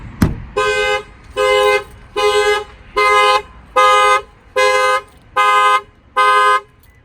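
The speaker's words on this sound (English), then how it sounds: "The alarm's just set off." A loud Toyota 4Runner car alarm, set off by a shock sensor, blares in steady repeating honks, about eight evenly spaced bursts after a sharp thump at the start.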